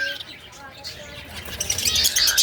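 Zebra finches in a roomy double breeding cage give bright, rapid chirps that grow busier toward the end, close by, with someone talking over them.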